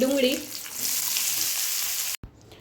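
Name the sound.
asafoetida and curry leaves frying in oil for upma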